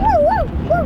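A person imitates a dog with a rising and falling whiny yip-like vocal, two quick wavering howls close to the microphone.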